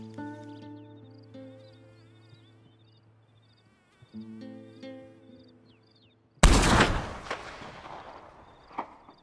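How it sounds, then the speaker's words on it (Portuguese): In a Western survival video game, after a quiet stretch of chirping insects, a single sharp rifle shot cracks out loudly, followed by a fading echo. "Acho que ele fugiu com o barulho do tiro."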